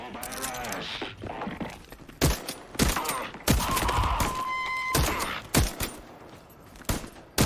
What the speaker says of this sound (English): Not gonna bother to ADS. I shoot better without aiming down the sights.